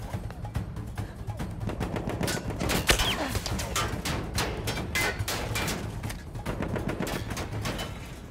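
Rapid machine-gun fire in the Battlefield 1 multiplayer video game, a dense, loud, sustained stream of shots with a sharper crack near the three-second mark, continuing steadily to the end.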